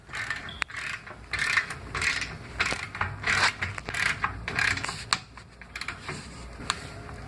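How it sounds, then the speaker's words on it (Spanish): A torque wrench with a 15-16 socket tightens rail nuts during cabinet frame assembly, giving bursts of sharp ratcheting clicks and rattles that come in uneven rhythmic runs, close and fairly quiet. "Gire el torque hasta que éste haga clic."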